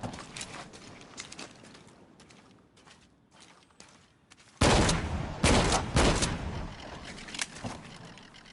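Rapid bursts of automatic gunfire from the Shadow of the Tomb Raider video game, sparse clattering shots at first, then a loud, dense volley of repeated rounds in the second half with no talking.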